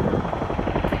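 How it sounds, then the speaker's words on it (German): A Boeing CH-47 Mark 6 Chinook twin-rotor helicopter flies a display at the ILA Berlin 2018 air show, its loud, rapid rotor thumping filling the clip continuously and close. "the Boeing CH-47 Mark 6 Chinook"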